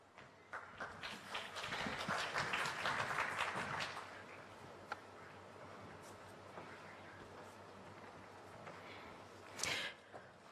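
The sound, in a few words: applause as the speaker walks to the stage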